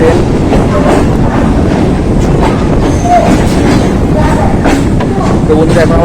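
A local train in Kolkata pulls into Ballygunge station, its steady rumble and clattering wheels loud and continuous throughout, with faint voices and station bustle mixed in.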